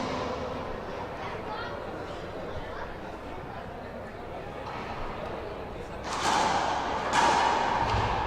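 A racquetball doubles match at a championship court, with a strong shot smacking the front wall as two sharp, loud cracks near the end, over steady crowd noise and commentary.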